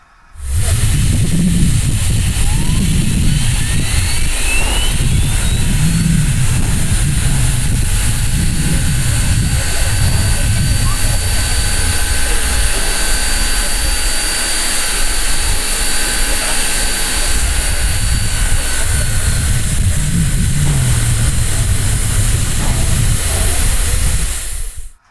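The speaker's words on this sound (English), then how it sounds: "a short video of the dynamo on one of their locomotives starting up and spooling down again" A steam locomotive's dynamo spins up and winds back down, a steady loud turbine-like whine and hiss that runs throughout with a low rumble beneath, alone without talk.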